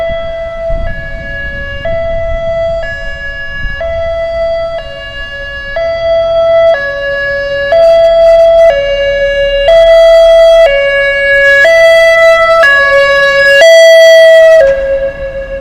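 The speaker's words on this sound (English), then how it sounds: "What's going on with the ambulance?" An ambulance siren wails loud and close, its steady two-tone pattern cycling repeatedly as it passes, rising slightly toward the end.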